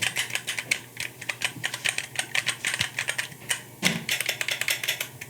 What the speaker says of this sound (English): My particular version comes with the Getron brown switches, which sound like this.